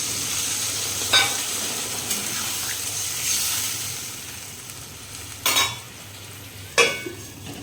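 A Bengali hilsa fish head curry sizzles steadily in a pan, with a few sharp clinks of a stirring utensil against the metal scattered through the continuous frying hiss.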